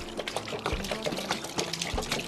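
Soy sauce poured into a braising pot of honey-glazed chicken wings with salt, chicken bouillon, sugar and spice marinade, giving a close, steady liquid pour with small splashes for a couple of seconds, no talk.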